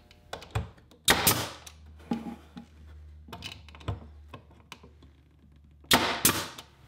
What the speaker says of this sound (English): I'll tack it in place with a 2-inch nail.